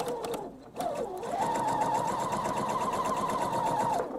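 A sewing machine runs a quarter inch seam on fabric with some back stitching, a brief start and stop and then a steady whirring hum up close for several seconds.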